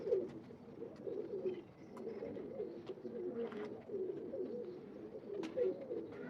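Teddy breed pigeons coo softly and repeatedly in low, throaty rolling calls, close by but quiet, with faint scattered clicks and rustles around them.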